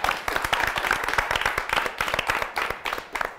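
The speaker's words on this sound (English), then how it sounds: "Let's give them a warm round of applause." Audience claps to welcome two guest speakers from a radio station at a broadcasting talk: loud, close, steady applause from a small crowd, individual claps distinct throughout.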